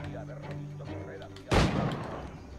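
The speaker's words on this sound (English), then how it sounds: "I'm just gonna kill this guy with a gun" A gunshot goes off in the pirate video game Assassin's Creed IV: Black Flag, one loud booming blast with a rumbling tail that comes after a quieter stretch of game ambience and a voice speaking.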